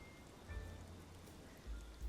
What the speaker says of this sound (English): As the rain continued to pour down on his umbrella